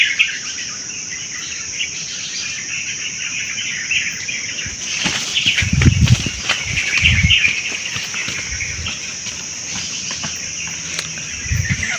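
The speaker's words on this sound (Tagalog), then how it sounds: "Boses ng ibon." Birds call outdoors along a muddy path away from houses, faint chirps over a steady insect-like hiss, with louder rustling thumps of footsteps midway through.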